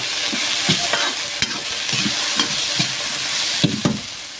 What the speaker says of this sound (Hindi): सब्जी में भी हल्दी नमक सब कुछ मिक्स करना ही है